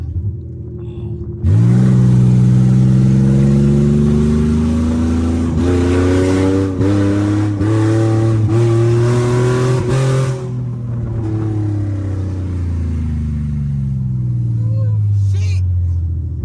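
An Infiniti G37 with a swapped VR30 engine and no exhaust revs up hard while driving, its loud rising drone holding for several seconds before it eases off, with voices talking over it.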